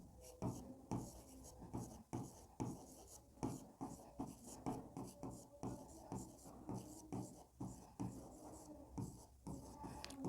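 A teacher writing on a board during a lesson on plant roots makes faint, rhythmic scratching strokes in short repeated bursts, with a quiet room behind.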